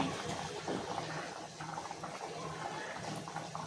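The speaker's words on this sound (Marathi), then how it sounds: "छान मोठी उकळ आलेली आहे मस्त गदगदून उकळत आहे" Curry bubbling at a strong rolling boil in a covered pot, a quiet steady churn of bubbles and gurgling with no talk.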